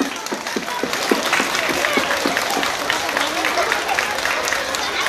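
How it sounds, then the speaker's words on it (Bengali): Children clap together at a school Children's Day event, a lively burst of applause with rhythmic group claps near the start and a voice speaking over it. "সবাই হাততালি দাও।"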